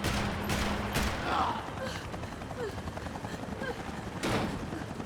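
Gunfire rattles in Max Payne 3: several sharp shots crack out early and again near the end over a low, busy action backdrop.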